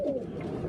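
Pigeon cockbirds coo in a loft, a single low, rolling call close by with no talk over it.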